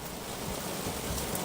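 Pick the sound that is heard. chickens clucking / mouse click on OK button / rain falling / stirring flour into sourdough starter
rain falling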